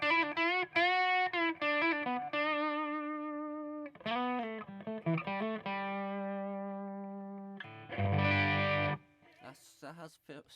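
Electric guitar on the bridge pickup runs through an MI Audio Tube Zone overdrive pedal, with sustained distorted chords and single notes ringing out, then a brief harsh strummed burst near the end, close and alone.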